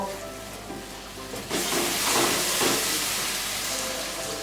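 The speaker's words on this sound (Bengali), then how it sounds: "হাফ কাপ পরিমাণ জল দিয়ে দিলাম। মশলাটা পুরো কষা হয়ে গিয়েছে।" Water poured into fried-down spice masala for a soya granule korma sets off a loud sudden burst of sizzling and hissing steam that keeps roaring steadily afterward, close up with no voices.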